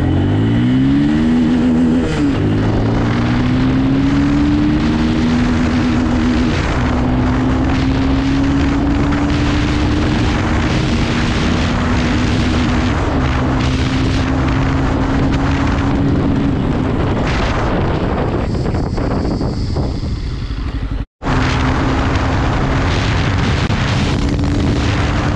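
A Bajaj Pulsar F250 motorcycle accelerates hard through first, second and third gears, its engine rising sharply in pitch with quick shifts, then a long sustained climb under heavy wind rush, loud and close, with a brief cutout near the end.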